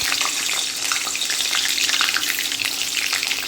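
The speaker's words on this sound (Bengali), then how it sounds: "এরপর আলুগুলো একে একে ছেড়ে দেবো" Potatoes frying in smoking-hot oil in a wok for a red goat-meat curry, giving a loud, steady, close sizzle with crackling spits throughout and no voices.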